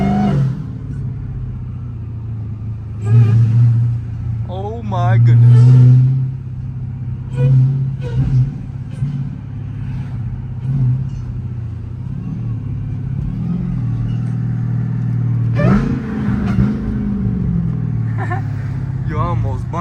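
Heavily modified 1000 hp Dodge Demon Charger running with no hood, its engine revving in loud bursts and a steady rumble under frequent excited talk.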